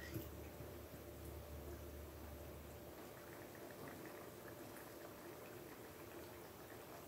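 Fish broth boiling in a pot on the stove, a soft, steady bubbling simmer with faint burbles throughout, quiet and close, with a low hum underneath.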